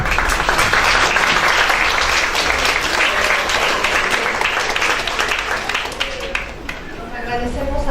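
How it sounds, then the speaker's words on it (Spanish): Loud, dense applause from a large crowd, sustained and close, tapering slightly near the end with a voice emerging underneath. "antes que nada, un aplauso"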